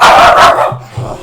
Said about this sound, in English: Sorry guys, dogs were barking.